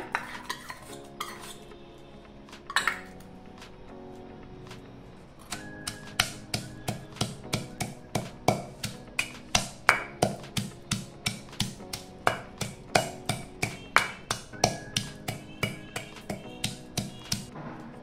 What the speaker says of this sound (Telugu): ఇందులోకి వేయించి ఉంచుకున్న దినుసులు ఫస్ట్గా వేసి దంచుకుందాము